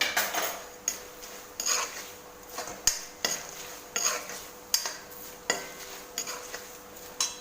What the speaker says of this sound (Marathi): आणि मीठ मी या चमच्याने दोन ते तीन चमचे टाकते आहे